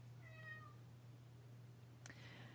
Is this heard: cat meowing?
yes